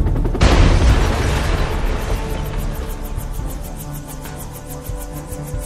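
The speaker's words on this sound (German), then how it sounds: "etwas explodierte." A sudden loud boom bursts out, followed by a long rumbling roar that slowly fades, with a rapid mechanical chopping continuing underneath.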